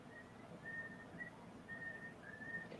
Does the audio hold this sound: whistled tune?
yes